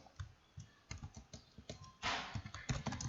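Keys clatter on a computer keyboard in quick irregular bursts, close and fairly quiet, with a denser flurry of strokes near the end.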